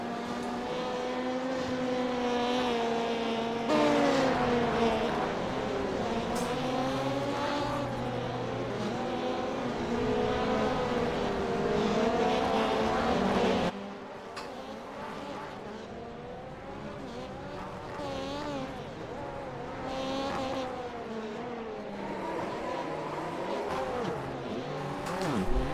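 Rallycross race cars, including a Ford Fiesta, in the iRacing simulator, with several engines droning and revving together as the pitch rises and falls through gear changes, loud and continuous, briefly dropping in level partway through.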